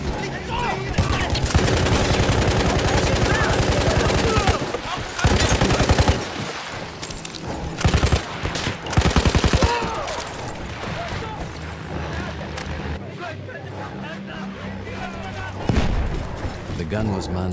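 Long, rapid bursts of heavy machine gun fire in a World War I Battlefield game on the Italian front, loud and close, rattle in several strings with short pauses, while in-game voices shout around the action.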